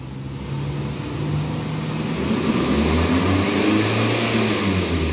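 A Mazda 3 with a check-engine fault revs its engine up close, a steady droning hum whose pitch climbs and holds across several seconds, with no talking.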